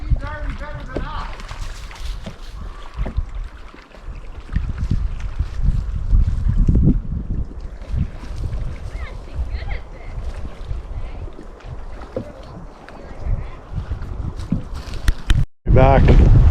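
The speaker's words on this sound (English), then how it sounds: "The wind is kicking up quite a bit." Wind gusting across a lake during a canoe trip, a loud continuous roar buffeting the microphone with rumbling gusts, while people talk beneath it.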